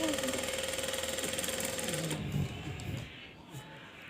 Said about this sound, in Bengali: এবার আমি পরবর্তী কোণাটাও একইভাবে সেলাই করে নেব।